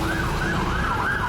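An Irish Garda ambulance siren wails in a rising and falling sweep, loud and continuous, repeating its cycle without any voices.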